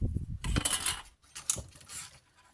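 Thin craft wire for a wire sunflower stem is handled and cut, giving two bursts of bright metallic clinking and rattling close by, separated by brief quiet.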